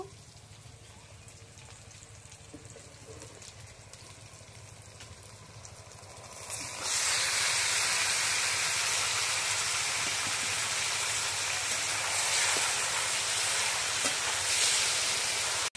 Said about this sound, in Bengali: এবার আমি মাংস ঢেলে দেব।